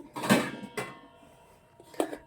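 A few sharp metallic clanks and knocks of a cooking pot for ragi mudde being picked up and set down, spaced apart with quiet gaps between.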